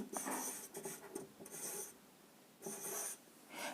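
Marker or chalk writing on a board during a biology lesson, several bursts of scratchy, rubbing strokes with short pauses between them, close and fairly quiet, with no talking.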